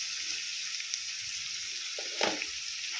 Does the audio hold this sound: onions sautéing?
yes